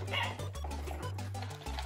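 A small dog yips and barks in short repeated bursts at close range, with a steady low hum underneath throughout.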